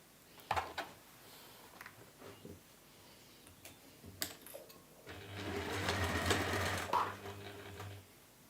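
A sewing machine stitches a seam on a faux tortoiseshell handle bag, first a few scattered clicks and handling taps, then a steady close whirring run of about three seconds that stops abruptly.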